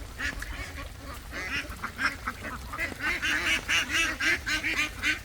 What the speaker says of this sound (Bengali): বৃষ্টির মধ্যে হাঁসগুলো কী অবস্থা দেখেন